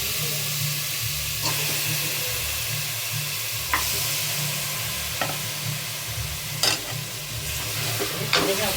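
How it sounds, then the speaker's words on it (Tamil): Washed mutton goes into a pan with ginger-garlic paste, setting off a steady loud sizzle with a few sharp scraping stirs of a spoon, frying continuously throughout. "இது கூடவே வந்து நம்ம கழுவி வச்சிருக்க மட்டனை சேர்த்துடலாம்."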